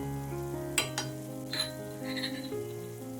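Homemade and Malvani masala with turmeric stir-fried in oil with onion and garlic for a Konkan-style dried bombil dish: a faint sizzle with a few spoon scrapes and knocks, under a steady tonal hum.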